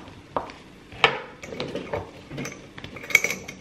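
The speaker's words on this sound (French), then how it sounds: "Donc je vais couper en cubes." A knife cuts marinated feta into cubes on a board in a home kitchen, giving a series of irregular soft taps and clinks spaced about half a second apart, close and fairly quiet.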